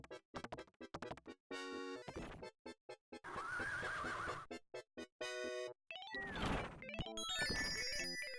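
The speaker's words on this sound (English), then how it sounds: "There's a lot of thumping and horse neighing in this game." Pony video game audio: repeated synthesized horse neighs and whinnies mixed with thumping hoof-like beats and bright game tones, dense and busy, with no talk.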